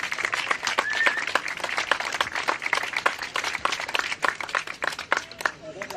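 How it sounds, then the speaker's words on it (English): Crowd applause at a hurling match, dense, steady clapping throughout, fairly loud, with some voices mixed in. "give the Beacon Hospital a massive round of applause"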